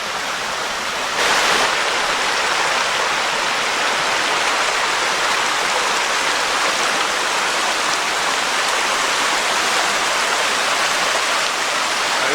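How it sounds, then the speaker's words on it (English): A flowing stream rushes steadily on a sunny hike near ruins and a waterfall, a close, continuous broadband wash of water with no voices over it. "Beautiful stream, though."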